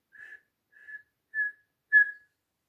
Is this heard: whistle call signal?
yes